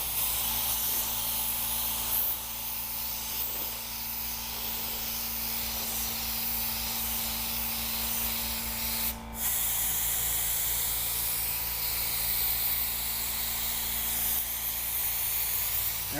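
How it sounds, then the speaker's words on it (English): Steady hiss of a spray gun painting a car quarter panel, powered by a small Harbor Freight air compressor, with a constant compressor hum beneath, a brief pause midway, then continuous spraying again. "What I'm looking for is to see if there's any fluctuation in the air pressure when we spray this quarter panel."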